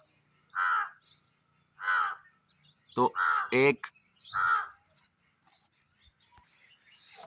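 Crows caw in a village, several loud, harsh calls spaced a second or so apart and fairly near, with someone briefly speaking between the caws and faint birds in the background.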